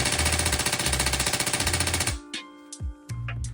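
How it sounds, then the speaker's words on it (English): A Tokyo Marui MP7 airsoft gun fitted with a Bingo Fusion Engine and gas stock fires a rapid full-auto burst of tightly spaced, loud pulses for about two seconds, then stops, leaving a few brief clicks and hisses. "when we shoot full auto"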